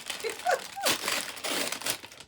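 A plastic bag crinkles and rustles in hand while a cross-stitch advent box is unpacked, with several close, bursty crackles that are steady and fairly loud throughout.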